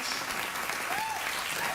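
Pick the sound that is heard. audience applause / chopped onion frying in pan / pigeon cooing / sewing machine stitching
audience applause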